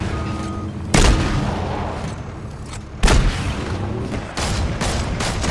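Gunfire in a video game: a few heavy booming shots at about one, three and four and a half seconds stand out from a dense, noisy battle backdrop, loud and close.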